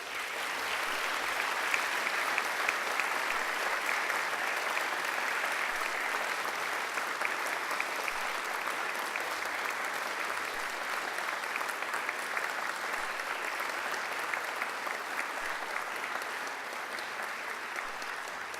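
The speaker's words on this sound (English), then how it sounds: "I invite you to give them a mighty round of applause." Long, even roar of applause from graduates at a university graduation ceremony, a dense, steady wash of many hands clapping at once that holds at a constant level without pause.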